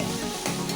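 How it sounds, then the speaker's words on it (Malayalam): Onions frying and being stirred in hot oil for biryani, a steady close sizzle with a brief scraping stir midway, no voices. "നമ്മൾ ഉള്ളി വാട്ടി എടുക്കട്ടെ."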